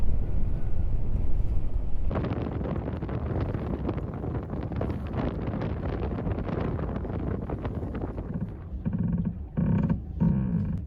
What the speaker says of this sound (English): it's still blowing like hell outside